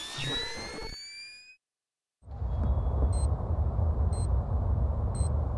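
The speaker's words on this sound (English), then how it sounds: "That's the sound of a wall mine." A wall mine in the Splinter Cell Double Agent video game gives a few evenly spaced high electronic beeps over a rumbling low game ambience, following an earlier rising synthetic sweep and a short silent gap.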